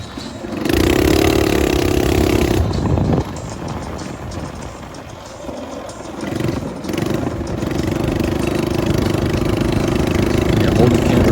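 A Predator 420 go-kart engine on a dirt track, a loud close rumbling drone that revs up, drops back to a lower throb, then climbs again to a steady run.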